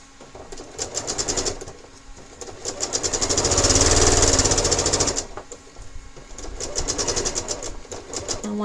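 Sewing machine stitching a quilt block, a rapid mechanical needle rattle in three bursts, the middle one longest and loudest, with short pauses between runs.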